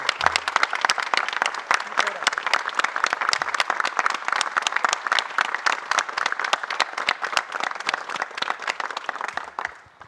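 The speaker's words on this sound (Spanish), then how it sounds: "le tributemos un fuerte aplauso a Rafael Correa" A summit audience claps for Rafael Correa in a dense, energetic round of applause that holds steady for about ten seconds, full of crisp individual claps, then fades slightly at the end.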